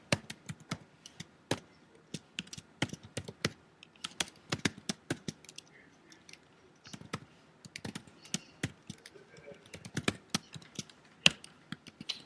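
Computer keyboard keys clatter in an irregular, steady stream of light taps and short bursts, close and moderately quiet, with no voices.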